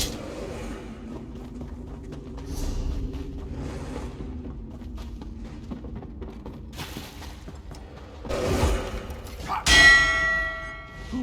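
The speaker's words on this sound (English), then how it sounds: "Who rang the bell?" A bell in Elder Scrolls Online, faint metallic clangs and dings over a low game ambience, building toward a louder struck ring near the end.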